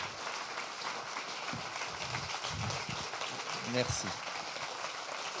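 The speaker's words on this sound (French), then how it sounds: "on va laisser d'abord les applaudissements que tu mérites" Audience applause at a conference, a steady broadband wash of clapping filling the room throughout, with a voice speaking briefly over it.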